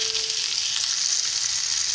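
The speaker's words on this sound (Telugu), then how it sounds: "అప్పుడు ఆయిల్ వేస్ట్ అవ్వకుండా చేప ముక్కలు చక్కగా ఉడుకుతాయండి, వేగుతాయి." Fish pieces frying in a shallow layer of oil, a steady dense sizzle with fine crackling that holds even and close throughout, no voices.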